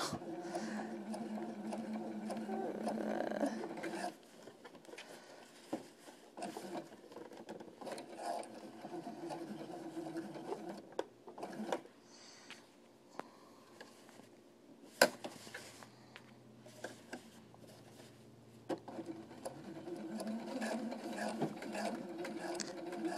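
Sewing machine topstitching an all-in-one cloth diaper with snaps, running in steady bursts of rhythmic stitching with short stops and a few clicks, fairly quiet and close.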